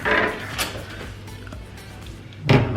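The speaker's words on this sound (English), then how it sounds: "And that door's a bit noisy" A hotel room door opens noisily, with a few wooden knocks and clunks of the handle and frame, then a louder thud near the end, heard close in a quiet room.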